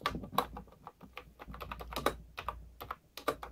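Keys clatter on a Sades V2020 computer keyboard in irregular bursts of close, crisp clicks and taps, with short pauses between runs and no voices.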